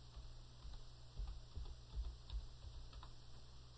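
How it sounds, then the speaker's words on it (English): Soft, irregular clicks of keys on a computer keyboard as an employer ID number is typed, faint and close over a low steady hum, with no one talking. "I'm going to go ahead and type in a federal employer ID number."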